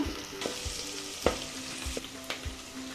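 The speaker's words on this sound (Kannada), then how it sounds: "ಸ್ವಲ್ಪ ಫ್ರೈ ಆಗಲಿ ಇದು." Onions and tomato fry steadily in a pan, a continuous close sizzle broken by several sharp scraping stirs and clinks of a utensil against the metal; no voices.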